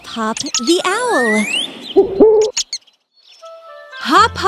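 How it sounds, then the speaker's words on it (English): A cartoon owl hoots and calls in a children's animation, with a few quick tonal hoots and chirpy sweeps followed by a short pause and another burst of calls, clear and close with no talk. "Hop Hop the Owl."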